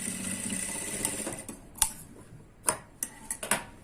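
A sewing machine runs steadily for a second or so while stitching a shoulder seam, then stops, followed by a few sharp clicks and taps of handling.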